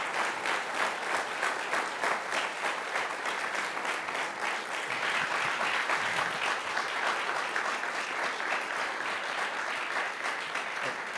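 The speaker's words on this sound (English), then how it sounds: "Let's give the administrator another round of applause and thanks, too, to his great team." A crowd in a lecture hall applauds the NASA administrator, Charles F. Bolden Jr., after an interview. The sustained, dense clapping holds steady and loud for over ten seconds, with faint cheering mixed in.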